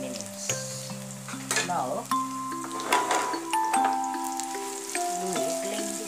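Banana pieces fry in a pan over a medium flame with a continuous crackling sizzle, and a voice talks over it.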